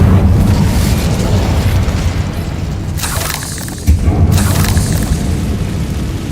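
A loud, sustained roaring burst of flame from the Incendio fire spell in Hogwarts Legacy, with a brief dip followed by a second heavy whoosh, dense and close.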